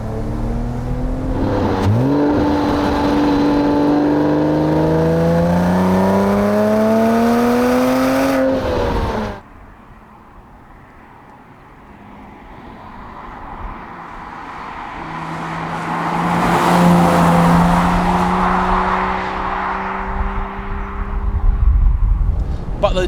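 A Porsche Boxster with a 2.7 engine revs high while driving, the pitch climbing steeply through the gears, easing off, then building again to a loud sustained wail, with talk over parts.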